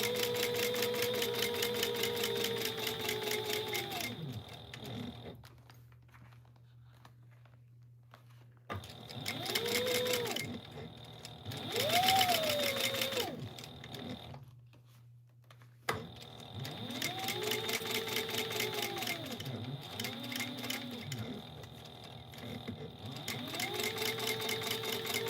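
A sewing machine top stitches fabric at a quarter-inch seam, running in fast rhythmic bursts separated by short pauses, close and clear with a whirring motor whine.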